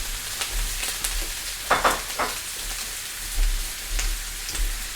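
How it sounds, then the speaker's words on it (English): Butter melting in a pan with rosemary, thyme and crushed garlic, a soft steady sizzle with light crackles and small pops, close and alone with no talk. "We'll let that butter melt, get those flavors mingling."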